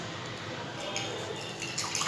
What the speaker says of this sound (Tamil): அப்புறம் வந்து தண்ணி எடுத்து ஊற்றும் போது அந்த பவுல்குள்ளே வந்து போயிடும்